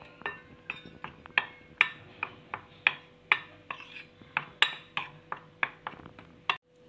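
Maida and wheat flour being stirred together in a bowl, a spoon striking the rim in a steady run of bright clinks and taps, close and alone.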